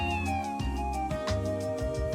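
A frail kitten meows in the Trails From Zero video game, a continuous high wavering mew over a busy background of game music and ambience.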